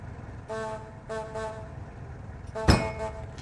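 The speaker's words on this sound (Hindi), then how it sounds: "मैंने कहा था इनसे कि बार बार हॉर्न मत बजाना।" A car horn gives two short honks near the start, followed by a louder bang-like burst, heard faintly through street ambience with no talking.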